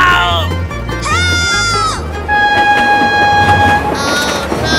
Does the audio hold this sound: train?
yes